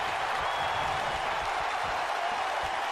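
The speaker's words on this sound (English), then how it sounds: "Listen to this crowd. They are on Loki's side." A wrestling crowd at an independent show cheers and claps in a steady, dense roar, heard from inside the arena without a break.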